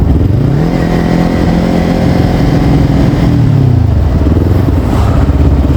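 A used motorcycle engine runs close by, a loud continuous mid-pitched rumble that swells with a couple of revs and settles back, with no talking over it.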